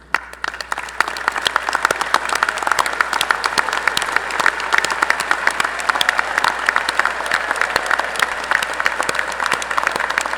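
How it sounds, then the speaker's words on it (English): A December 2019 commencement crowd for business, engineering and fine arts graduates applauds the candidates' parents, sustained crisp clapping from a large audience in a reverberant hall, continuing evenly throughout. "Would the parents of our candidates please stand and receive our applause?"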